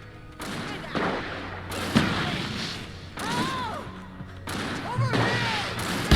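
Repeated gunshots ring out in the Alan Wake video game, with bursts of several loud shots spread across the span and the game's music and ambience running underneath.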